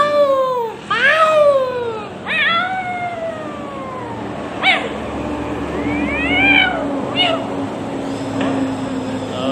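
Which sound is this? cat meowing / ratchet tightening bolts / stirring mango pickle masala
cat meowing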